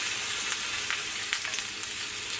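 Onions fry in warm oil in a pan for Mexican turkey meatball soup, a dense, continuous bright sizzle with small crackles, close and steady throughout.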